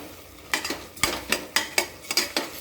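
A spoon stirring thick masala gravy in a pan, about eight distinct scraping strokes in an uneven rhythm over a faint sizzle, close up with no voices.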